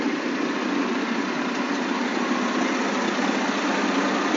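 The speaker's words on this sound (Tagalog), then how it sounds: "Smooth na smooth lang yung andar mga sadik, hindi maingay." Idling engine of a new Shacman truck, a steady, even mid-pitched hum with a faint vibration underneath, continuous and unchanging, heard fairly close and without talk.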